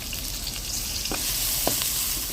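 Chopped vegetables with salt, turmeric and green chillies fry in a hot pan, giving a steady, close sizzle broken by a couple of brief stirring scrapes.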